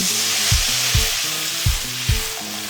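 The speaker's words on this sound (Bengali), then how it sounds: "এবারে দিয়ে দেব পরিমাণ মতো জল" Fried masala for a Bengali fish curry with eggplant and rui fish sizzles in a pan, broad steady frying hiss with four soft knocks of a utensil against the pot at even intervals, no talk.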